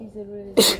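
A single sharp sneeze bursts out near the end during a medical lecture in a clinical setting, loud and close after a stretch of quiet room tone.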